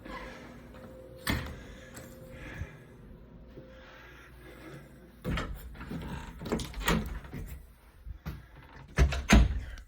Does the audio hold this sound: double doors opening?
yes